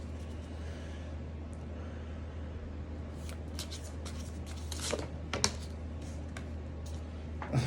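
Tarot cards being shuffled, soft riffling and quiet tapping bursts over a steady low hum, growing busier in the second half.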